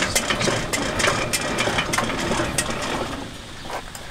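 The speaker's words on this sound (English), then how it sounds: "We need to do 41 cranks out of these three tubes." A hand-cranked seed planter being turned to calibrate seed output into tubes, giving a steady ratcheting, gear-driven clicking and rattling close by, with no talk.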